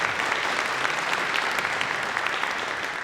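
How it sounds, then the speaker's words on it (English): A concert audience applauds a clarinet soloist at a high school holiday concert, with dense, steady clapping that stays even and fairly loud throughout. "Let's give him a round of applause."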